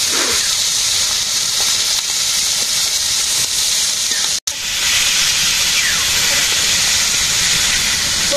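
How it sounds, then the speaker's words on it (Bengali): Small fish frying in mustard oil in a village kitchen, a steady loud hiss and sizzle that carries on almost without a break, dropping out for a moment near the middle. "হ্যাঁ গুঁড়া মাছ ভাজি করতেছে।"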